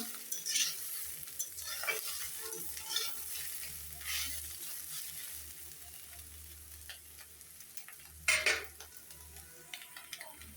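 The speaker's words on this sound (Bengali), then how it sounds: "আমি এখন এটা বাঁধাকপিটা ভালোভাবে ভেজে নিতেছি" Cabbage frying in a pan while being stirred, a steady close sizzle broken by occasional scraping strokes of a spatula and a few louder clatters, with no one talking.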